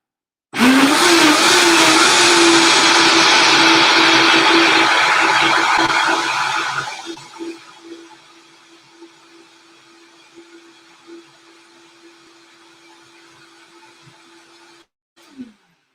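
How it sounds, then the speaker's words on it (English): A Vitamix blender blending a smoothie roars loudly for about six seconds, then winds down to a low, fading whine and stops, ending with a faint click. "This is a Vitamix."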